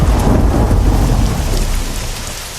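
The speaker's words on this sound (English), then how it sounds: "The rain grew heavier." Heavy rain pours steadily near a shrine, with rumbling thunder beneath a dense, loud hiss of falling water that eases slightly toward the end.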